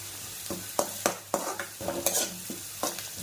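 Curry leaves sizzle and crackle in hot oil while being stirred, with sharp repeated scraping strokes of a spoon against the pan every half second or so, close and fairly loud, no voices.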